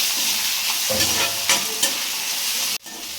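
Garlic, ginger and grated coconut sauté in a hot pan with a loud, steady sizzle, a couple of stirring scrapes, then a sudden cut-off near the end.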